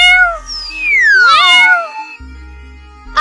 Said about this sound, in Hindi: कहाँ गया बिल्ली का बच्चा?